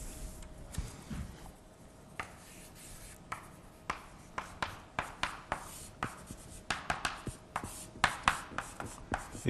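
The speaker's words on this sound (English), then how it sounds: "Let me write it down here." A pen scratches across paper in a run of short quick strokes, close and crisp, growing more regular as equations are written out, with no talking.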